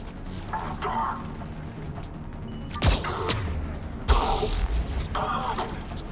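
Gunfire in a Mass Effect 3 firefight, with two sharp, loud blasts standing out over a busy, noisy battle bed and bursts of voices talking throughout.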